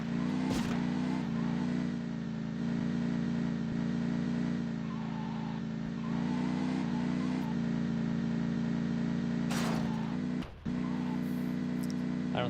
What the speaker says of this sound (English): It's starting to make that stalling sound effect.